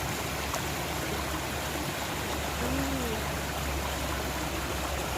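Water from a park fountain in Civic Park, Warragul, Victoria, Australia, makes a steady, even, broadband rush with no breaks, close and continuous throughout.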